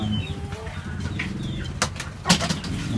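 Racing pigeons in a breeder's loft at feeding time, with low murmuring coos running throughout, a brief burst of wing flapping near the end, and faint chirps over a steady background.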